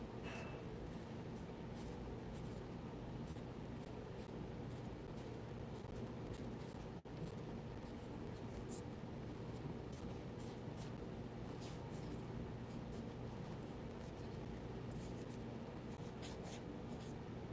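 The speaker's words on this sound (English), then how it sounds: "And we'll continue blending now with the clean paper stick" A paper blending stick rubs pastel across paper in a quiet, close-up, steady scratchy swish that continues unbroken for many seconds with no talking.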